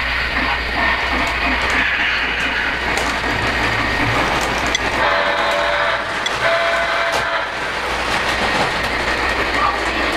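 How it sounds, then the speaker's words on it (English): A Polar Express model passenger train runs steadily along its track on a layout with an elevated section and bridge, a continuous close rumble with faint rhythmic clicking of wheels over rail joints. "we need to finish the run with the Polar Express passenger train and get that moving along"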